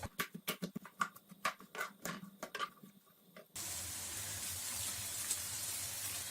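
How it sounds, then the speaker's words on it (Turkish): Onions frying in a pan of olive oil give a steady, even hiss and sizzle that starts suddenly after a few seconds of clattering, tapping handling noises. "Soğanlar şöyle biraz rengi dönene kadar kavuruyorum."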